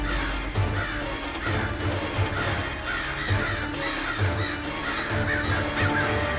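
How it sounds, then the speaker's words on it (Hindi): A dense flock of crows caws repeatedly over a loud, busy background of music and commotion in a Tenali Rama court drama scene, the harsh calls recurring throughout. "हे भगवान, कौवे!"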